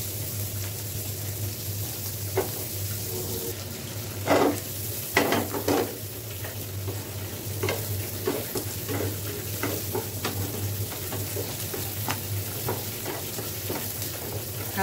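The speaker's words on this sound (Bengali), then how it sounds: "হালকা একটু ভাজবো, বেশি না।" Chopped garlic and onion frying in a pan, a steady close sizzle throughout with scraping stir strokes and clinks of a spoon against the pan.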